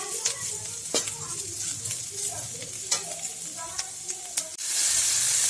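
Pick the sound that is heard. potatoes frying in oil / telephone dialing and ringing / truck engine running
potatoes frying in oil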